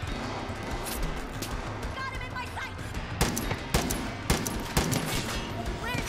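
Rapid gunfire from a firefight with snipers on a roof in the Far Cry 5 shooter game, sharp repeated shots bursting loudest in the second half over a dense battle bed, with game dialogue mixed in.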